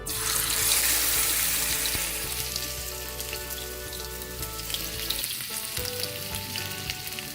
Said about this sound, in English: we have a pan heating on the stove with some oil at medium or medium-low heat. So we're going to gently lower pieces of our fish.